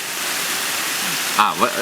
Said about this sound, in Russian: Голубой грохочущий водопад.